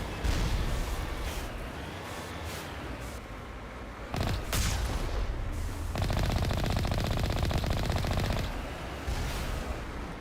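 Rapid automatic gunfire in a Mass Effect Legendary Edition battle against geth, with a deployed turret joining in, as loud continuous bursts with brief pauses and some heavier booming impacts mixed in.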